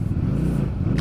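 An 800cc big motorcycle rumbles at low RPM as its gearbox shifts down on its own, a loud, close, steady engine drone with no talk over it.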